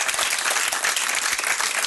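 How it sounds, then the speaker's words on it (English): Audience applause at a golf academy gathering, dense and steady throughout, loud and close with no pauses. "Let's give a round of applause for those pants that Charlie's wearing today."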